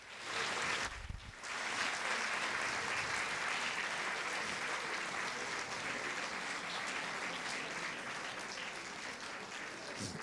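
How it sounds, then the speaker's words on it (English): Sustained applause from a large audience welcomes the Shuar community at the opening celebrations for the canonization of Santa Maria Troncatti, a dense, steady roar of clapping that runs loud and continuous for about ten seconds after a brief break near the start. "we welcome them with a beautiful applause"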